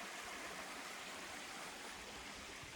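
A stream or creek runs right beside a river walk on the Appalachian Trail, a steady, quiet rush of flowing water that holds even and unbroken throughout with no voices.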